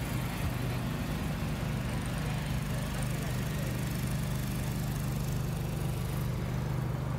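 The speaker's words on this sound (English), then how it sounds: "You can hear the generators." A steady low mechanical drone from generators runs throughout at a harbor festival, like engines humming nearby, with a constant broadband wash over it and no clear speech.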